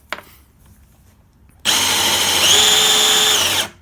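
A power drill with a Kreg bit bores through wood in an off-brand hidden hinge drill jig, starting abruptly after a quiet lead-in and whining loud and steady for about two seconds before stopping.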